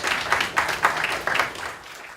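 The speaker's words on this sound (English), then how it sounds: "Big round of applause." An audience at a piano recital applauds, a short burst of many hands clapping together at moderate volume that tapers off toward the end.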